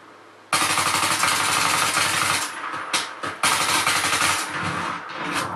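Sustained automatic gunfire from the video game Battlefield 3 multiplayer kicks in abruptly and roars on loud and close, with a few short pauses before the firing resumes.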